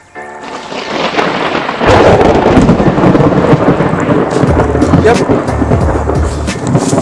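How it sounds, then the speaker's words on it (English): Thunder rumbles loudly through a thunderstorm with steady rain, a heavy roar that swells after a quieter start and keeps going, while someone says a brief word. "It'd be nice if the storm would fire them up."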